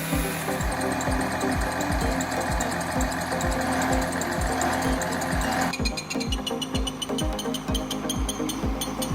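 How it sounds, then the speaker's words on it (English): A Tigercat 1075B logging machine's big diesel engine runs in a forest with a loud, steady chugging roar and rhythmic knocking pulses, shifting to a harsher, higher-pitched tone partway through. "The roar of the engine shreds the tranquil forest air."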